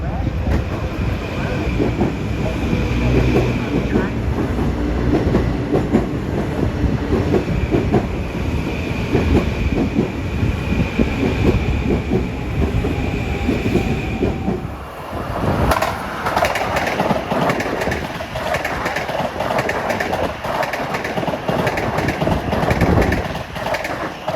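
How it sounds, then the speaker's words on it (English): An LIRR commuter train bound from Penn Station to Long Beach roars past Woodside station at evening rush, a loud, continuous rumble with rhythmic wheel clatter and rail screech lasting the whole pass. "That was 864 from Penn Station to Long Beach."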